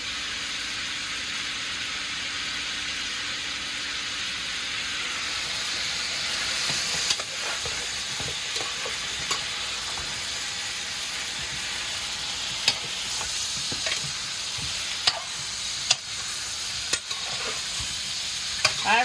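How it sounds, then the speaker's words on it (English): A pot of smoked turkey necks and red beans sizzles steadily while being stirred, with occasional sharp clicks of the spoon against the pot. The sound is close and constant, with no talking. "So now I'm going to go ahead and start stirring my pot."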